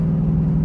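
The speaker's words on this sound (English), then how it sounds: "Downshift." The catless engine of a Dodge Durango R/T gives a brief, steady, deep drone during a downshift, heard from inside the vehicle with no talk.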